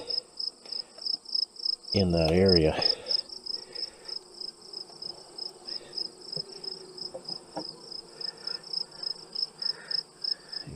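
Honey bees buzz at an opened hive escape board during a September honey pull, a close, continuous drone that swells in pulses; someone speaks briefly early on.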